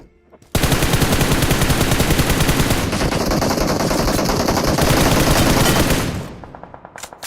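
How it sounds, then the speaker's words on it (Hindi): Sustained automatic gunfire in a battle royale video game, loud and continuous rapid bursts starting abruptly after a brief quiet and fading near the end, with no talking. "सामने से फायर हो रहा था"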